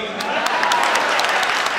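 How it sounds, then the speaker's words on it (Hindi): A crowd at a Hindi comic poetry gathering claps in a brief, even round of applause, a steady mass of hands at moderate loudness lasting under two seconds. "ताली कमजोर है आपकी।"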